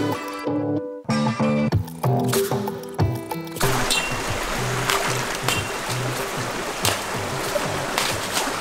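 A jungle creek in the Amazon flows steadily in broadband rushing water, close and continuous, after a few seconds of music at the start.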